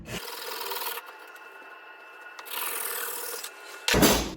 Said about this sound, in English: Saw through the bamboo, following the line.